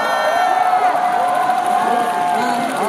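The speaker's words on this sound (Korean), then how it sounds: "박수 한번 드리겠습니다" A large crowd at a university launch ceremony with EXID onstage cheers and claps steadily and loudly, a dense wash of voices and whoops with no pauses.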